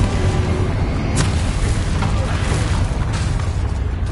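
Explosive Confringo spell blast in Hogwarts Legacy, a dense, roaring boom amid continuous loud combat noise, with a couple of sharp impact cracks standing out.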